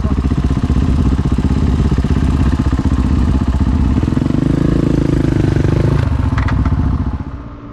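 A motorcycle rides hard up a road with a loud, close, continuous engine roar and rattling clatter, pitch rising as it accelerates before the sound tails off at the end.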